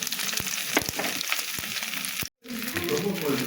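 Cumin seeds sizzle and crackle in hot oil alongside a fried boal fish head, a steady broadband frying hiss with a few stirring knocks, cutting out briefly before resuming just as loud.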